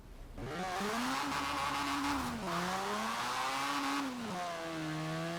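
A Mazda Cosmo's rotary engine in Forza Horizon 4 revs and drones with its pitch climbing and dropping as the car accelerates on sports tires, steady and continuous with a faint tire squeal.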